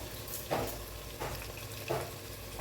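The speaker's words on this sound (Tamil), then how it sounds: "இப்போது நான் 2 தக்காளி எடுத்துருக்கேங்க, அதை போட்டுக்கிறேன். இது நல்லா வதங்கணும்." Two tomatoes sautéing in a pan with a little salt for veg biryani, a quiet steady sizzle with three soft stirring swishes at regular intervals.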